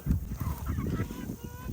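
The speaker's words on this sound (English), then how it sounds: "I'm just gonna try and get this rooster back inside the fence" A rooster loose in a garden gives faint, hoarse fowl calls at a distance over low rumbling background noise.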